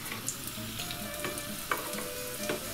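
Chebureki, factory-made Russian fried turnovers, sizzle and spit in a hot pan, a steady close crackling hiss with scattered small pops and no voices.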